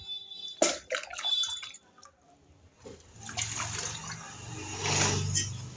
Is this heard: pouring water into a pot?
yes